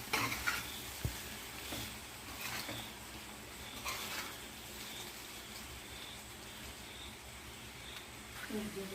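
Egg fried rice with garam masala being stirred in a hot pan, heard as a continuous close sizzle with occasional scraping strokes and clinks, steady and even throughout.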